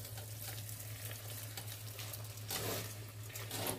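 Spaghetti is stirred and tossed with sauce in a pan, giving a soft, steady sizzling and wet stirring noise throughout, fairly faint and close, with a low constant hum beneath and no talk.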